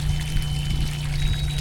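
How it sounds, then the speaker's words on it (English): Well water pumped into a backyard pool, a steady, continuous pouring rush with a constant low hum beneath it, loud and close with no talk. "We're filling the pool with crystal clear water."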